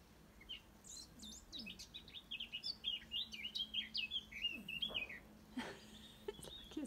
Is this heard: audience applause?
no